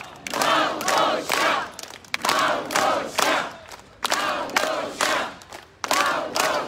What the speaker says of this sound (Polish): Małgorzata Wołkowalik, wielkie brawa na naszą mistrzyni i wicemistrzyni, a więc jeszcze raz Koszalin, wszyscy razem, Małgosia!